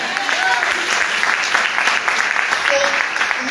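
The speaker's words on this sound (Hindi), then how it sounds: "खुदावंत के लिए जोरदार तालियां।" Loud, sustained clapping rises from a church congregation praising the Lord, dense and close, with a few voices calling out over the hands.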